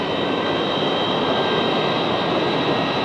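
A jet airliner roars steadily while taking off, a loud, dense engine rumble with a sustained whine, continuous and close, with no voices over it.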